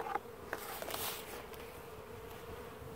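Honey bees buzz around an open beehive during an inspection, a faint, continuous droning hum with a few brief louder passes near the microphone.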